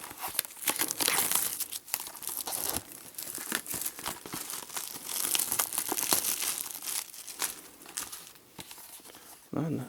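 Plastic wrap is peeled and torn off a collector's edition game box, making close, continuous crinkling and crackling with sharp tearing bursts throughout. A voice speaks intermittently.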